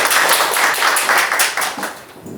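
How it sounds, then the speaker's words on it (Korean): Audience clapping at a Korean lecture on genome-based cancer prediction and genomic medicine, a dense, steady burst of many hands that thins slightly toward the end, with no talking over it. "박수 부탁드릴게요."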